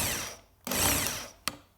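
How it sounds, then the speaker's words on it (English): A countersink drill bit turns into a freshly drilled hole in two short, close power-tool bursts. The first buzz tails off and the second starts abruptly, with a sharp click-like onset near the end. "my countersink drill bit is in place. So I'm going to put that into the hole I've just drilled"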